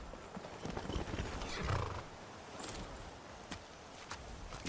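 Horse hooves clip-clopping in the Skyrim video game, with a whinny around the middle, close and moderately loud over a steady ambient bed.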